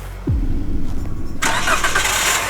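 A car starter cranks briefly, then the engine catches and settles into a loud, steady idle close by, with no talking.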